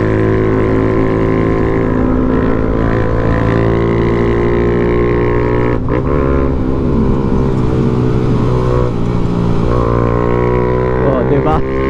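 A Suzuki Raider motorcycle crossing a river, its engine running steadily and loud at close range throughout, with harmonic drone that wavers as revs shift.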